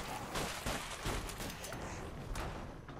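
Gunfire in the zombie video game Deadlight, a faint, muffled burst of several shots and thuds over a dense, noisy background.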